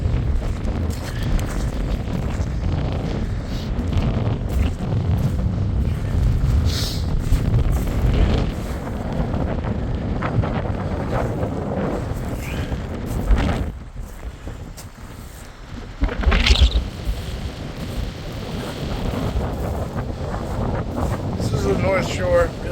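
Strong gusting wind on a North Shore hike on a windy day, roaring and buffeting the microphone in heavy bursts, with people speaking under the rumble and a brief lull partway through.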